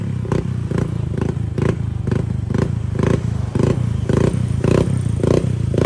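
A Honda Click 125 scooter fitted with a JVT exhaust pipe and CVT setup runs on a dyno, a steady close, rumbling engine note with a regular pulsing throb and no talk over it.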